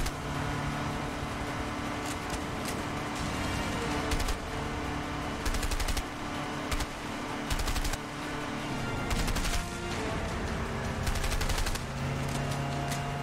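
Video game gunfire from A Way Out, with rapid overlapping shots and bursts repeating over a steady, dense background of in-game sound, fairly loud throughout.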